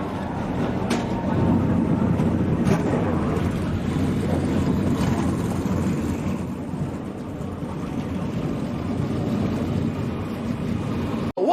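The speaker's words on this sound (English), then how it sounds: "Drivers, start your engines." NASCAR Craftsman Truck Series engines firing up for the 2023 dirt race at Bristol, a broad rumbling roar of many engines blending with crowd noise, steady and loud before trailing off.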